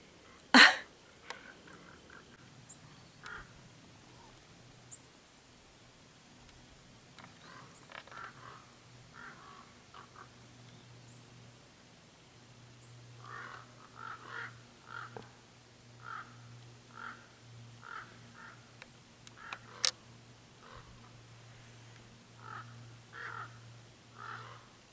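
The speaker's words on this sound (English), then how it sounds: "It looks like the ravens out here in Cheeseboro Canyon have learned English, and we have not learned raven." Ravens call repeatedly out in Cheeseboro Canyon, a series of hoarse croaking caws in irregular bursts, moderately distant over a steady low hum, with a couple of sharp knocks and no talking.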